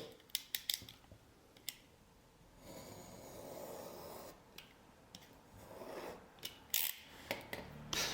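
A few crisp snips, then a smooth, quiet slicing glide of a sharp knife through leather, with light clicks and handling noise around it, close up.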